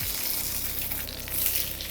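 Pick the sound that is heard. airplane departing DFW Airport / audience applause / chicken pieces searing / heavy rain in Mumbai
chicken pieces searing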